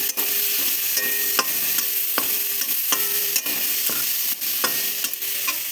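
Spice masala sautéed in a pan for tilapia curry with eggplant, continuous loud sizzling broken by regular scraping stirs of a spatula, no voices.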